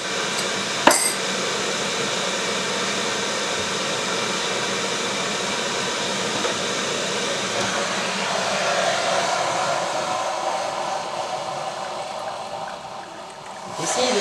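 Water being heated for a plant-based coffee-like drink: a steady broadband roar, like a kettle or burner, holds for the whole stretch, with a sharp clink near the start and another toward the end.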